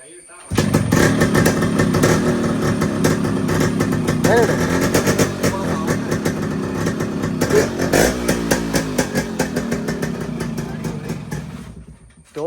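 A motorcycle with its stock, unmodified silencer idles close by with a steady, full rumble for several seconds, its pitch rising and falling slightly with gentle throttle, then cutting off.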